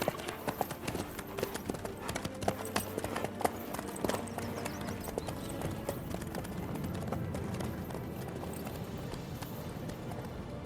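Horse hooves clip-clop steadily in The Witcher 3: Wild Hunt video game, a continuous rhythmic trotting with game music and ambience beneath.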